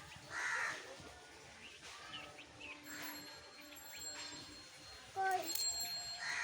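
A crow caws loudly a few times, with sharper calls near the start and end, over faint outdoor background.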